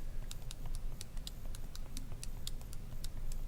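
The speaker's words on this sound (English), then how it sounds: "Make sure you're typing in slow, because if you type in too fast, it's not going to register what you are typing in" Rapid key presses on a graphing calculator tap out a steady, fairly quick run of small clicks over a constant low hum, faint and without talk.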